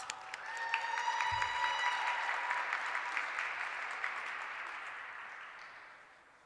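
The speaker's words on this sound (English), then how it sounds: "Her name is Alondra Bobadella, so let's give her a round of applause." An audience at a City Hall International Women's Day celebration applauds warmly, a sustained round of clapping that swells quickly and then slowly tapers away, with a brief low bump early on.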